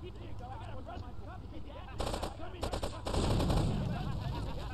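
Video game gunfire from GTA 3 Definitive Edition, with bursts of automatic shots breaking out midway and a louder, denser stretch of firing and blasts toward the end, mixed with game sounds and some voice.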